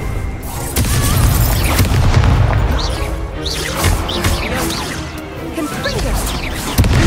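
Continuous spell-casting booms, whooshes and crashing blasts from combat in the Hogwarts Legacy video game, loud and dense, with a voice shouting spell names over the effects.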